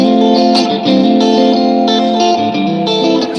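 Electric guitar played through a Vox AC15 combo amp with its spring reverb set all the way up, sustained chords and notes ringing with a reverberant wash, close and fairly loud, with no talking.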